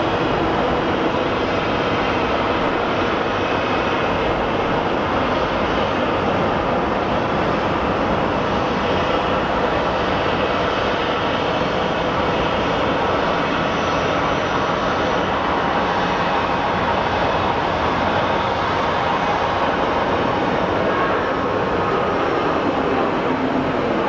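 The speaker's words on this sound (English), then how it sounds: "we are going to be lucky and get a heavy takeoff. So we have our FedEx" Steady, loud roar from a FedEx Boeing 777 heavy on takeoff at Sky Harbor Airport in Phoenix, a continuous broadband rumble of jet engines that holds unbroken for over twenty seconds.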